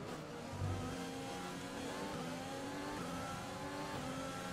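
An F1 car engine in the F1 2020 racing video game screams at high revs, a faint, steady whine with shifting pitch under a dense background.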